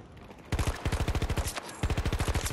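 Automatic rifle fire in Battlefield 2042, with two rapid bursts of close, punchy shots in a quick even rhythm, separated by a brief pause.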